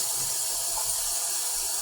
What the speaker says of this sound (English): I always just rinse it real good with cold water